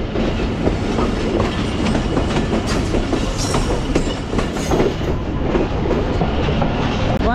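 A passenger railcar rolls steadily along the rails between Wazirabad and Rawalpindi, loud and close, with continuous rumbling and a rhythmic clatter of wheels over track joints.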